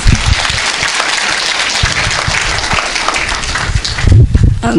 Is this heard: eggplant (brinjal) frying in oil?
no